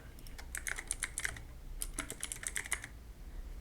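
Quick, close typing on a computer keyboard, two short bursts of crisp key clicks with a brief pause between them, over a faint background hum.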